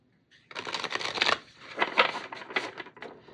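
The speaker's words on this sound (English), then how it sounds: "Okay, one more shuffle and then I'll pull the reading." A brand-new Lotería oracle card deck is riffle-shuffled up close, two rapid fluttering bursts of cards snapping together, crisp and loud with a brief pause between them and no talking.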